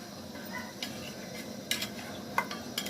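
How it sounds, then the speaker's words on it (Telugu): A spoon stirs fish curry in a pan, giving soft scraping and light clinks at irregular moments over a faint background hiss, fairly quiet and close. "ఇప్పుడు మనం ఇది కాసేపు మగ్గించుకొని కొద్దిగా అటు ఇటు కలపండి."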